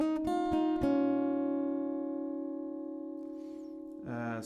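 Acoustic guitar plucking the melody of a song, a few quick picked notes at the start that then ring out and sustain, decaying slowly before a new strum near the end.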